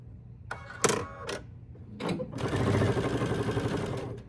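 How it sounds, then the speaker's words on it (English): A sewing machine stitches quilt binding in short bursts, first a few quick clattering runs and then a longer continuous whirring stitch, close and fairly quiet. "Then we'll take it to the machine, and we will stitch it."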